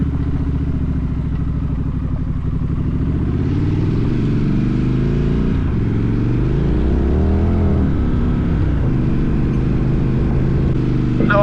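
A Scrambler motorcycle climbs a mountain dirt road through switchbacks in the Appalachians, its engine droning steadily and close throughout with rising and falling revs, plus wind rush and rattle.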